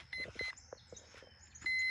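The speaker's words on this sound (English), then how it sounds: "Wait for the beeps." Electronic beeps from a Fox model aircraft (FMS, 3 m span) as its flight battery is plugged in: a few short, close tonal chirps, spaced apart and ending in one longer, steady beep.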